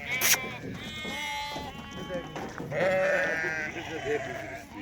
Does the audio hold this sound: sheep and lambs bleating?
yes